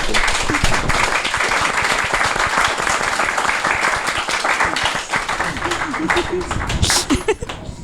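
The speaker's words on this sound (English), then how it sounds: "I just want to give a round of applause, really." An audience at a talk on the voice applauds warmly, a dense, sustained patter of clapping with scattered voices and light laughter rising near the end.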